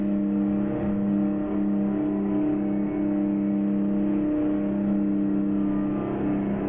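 A Mack R truck with a 6V-92 diesel engine cruises at speed while hauling fuel in American Truck Simulator, giving a steady, moderately loud engine drone that holds an even pitch throughout with no talking.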